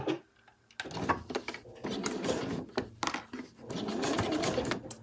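A sewing machine stitching the seam of a fabric travel wallet: a short pause, then a rapid mechanical whir and chatter running in bursts with brief stops, close and steady.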